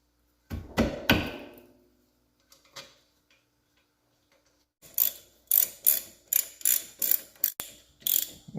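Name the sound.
ratchet tightening brake caliper bolts on a Dodge Journey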